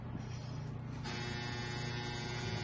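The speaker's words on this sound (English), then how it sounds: "That is my dryer." Steady low hum of a home clothes dryer running nearby, continuous and even throughout, with a brief shift in the upper texture partway through and no talking.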